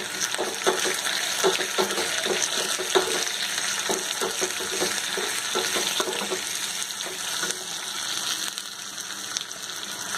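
Continuous crackling sizzle of spices and onion tempering in hot oil, dense and steady throughout, with scattered sharp pops and occasional stirring clatter.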